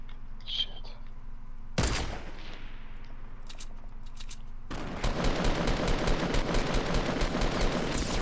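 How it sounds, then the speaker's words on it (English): Gunfire from a Fortnite match: a sudden loud burst, a quieter stretch, then sustained rapid automatic fire that continues to the end, close and dense with crackling shots. "Oh, I'm getting shot at."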